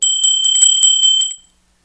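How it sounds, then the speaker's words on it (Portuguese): A bright notification bell chimes in a quick run of about ten metallic dings over roughly a second and a half, loud and alone, then cuts to silence. "Porque o sininho tocou"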